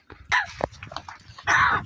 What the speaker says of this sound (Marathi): कुत्री आली बा कुत्री आली बा